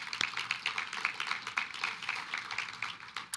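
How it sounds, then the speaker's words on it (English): A small audience at a community forum held in a Baptist church gives a round of applause, light scattered clapping with distinct individual claps, fairly quiet and with no talk. "Round of applause for the RAC."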